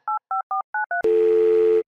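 Five short touch-tone keypad beeps are dialed in an even rhythm, then a loud steady phone tone sounds on its own without any talk.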